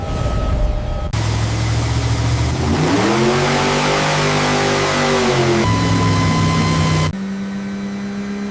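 A Chevrolet V8 engine running at 5,000 RPM on an assembly-line test stand, loud and steady, its pitch shifting and swelling through the middle before settling, with no voices.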